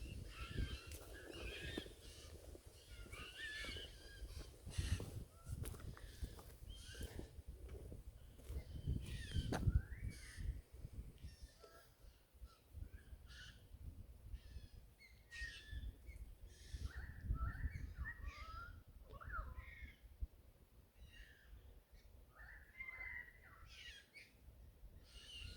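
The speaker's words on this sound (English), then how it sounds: "Maybe lots of pied currawongs over there." Pied currawongs give harsh, scattered squawking calls in the open near a sedimentary rock quarry, faint and distant against wind and outdoor background noise.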